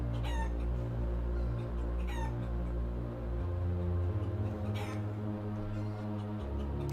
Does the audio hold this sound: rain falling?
no